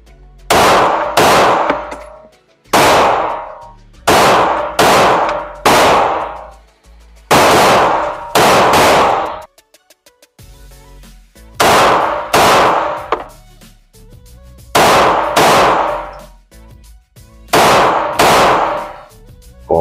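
Pistol shots at a shooting range ring out in clusters of two or three loud, sharp cracks with ringing tails, separated by short quiet gaps.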